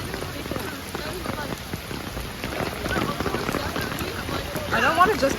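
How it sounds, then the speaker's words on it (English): Steady rain pattering on surfaces outdoors in London, a dense close hiss of drops that grows a little louder toward the end; someone may be speaking faintly underneath. "Yeah, I love the rain."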